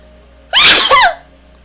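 A single sharp sneeze bursts out loud and close after a moment of quiet, a quick intake followed by a forceful two-part expulsion, then silence again.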